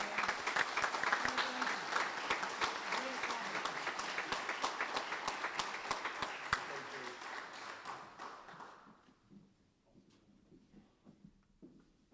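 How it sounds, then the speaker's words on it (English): Audience applause at a Marine Corps professional awards dinner at Camp Lejeune, a dense steady roar of many clapping hands that holds for about eight seconds, then tapers off into a quiet room with faint scattered sounds. "Please join me in a round of applause."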